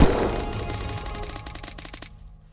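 A rapid burst of automatic gunfire from a magazine being emptied in the survival game Unturned, loud at the start and trailing off over a couple of seconds, with no talk over it.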